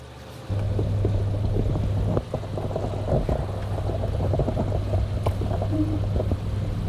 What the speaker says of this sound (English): draws the water up, creates a siphon into the bucket